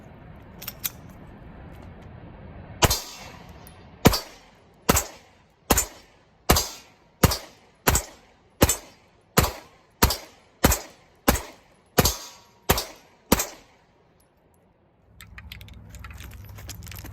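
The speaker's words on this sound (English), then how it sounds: "I'm gonna keep shooting." Rock Island Armory STK100 pistol firing a long string of about fourteen evenly spaced sharp gunshots outdoors, loud and close, each crack trailing off quickly before a quiet stretch at the end.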